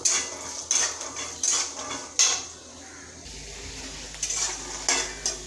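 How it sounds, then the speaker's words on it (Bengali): Peanuts frying with a little salt in a pan, a steady sizzle broken by repeated sharp scrapes and clinks of a spatula stirring against the metal, with a quieter stretch in the middle. "সামান্য একটু সন্দক লবণ দিয়ে বাদামটাকে ভেজে নেব।"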